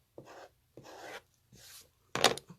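Fabric being cut along a seam line, four short separate strokes of blade-on-cloth rasping, close and quiet, with the last one louder, and no voices.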